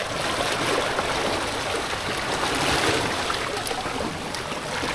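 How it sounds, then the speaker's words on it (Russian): Sea surf washing over sharp, rough pebbles and stones on a wild Croatian beach, a steady broadband rush and hiss that holds nearly level throughout, close and fairly loud, with no voices. "Просто это шум моря"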